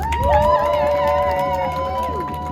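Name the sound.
crowd applause and cheering at a march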